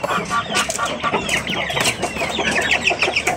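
Farm chickens of mixed breeds cluck and chatter together in an outdoor pen, a busy, continuous flock sound at close range with high calls layered over the steady clucking.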